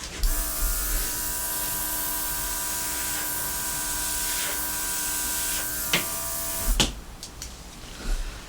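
Air is blown over a fresh acrylic paint pour, a reverse dip, producing a steady, close hiss with a faint tonal whine that carries for several seconds before ending in soft bumps and breaths.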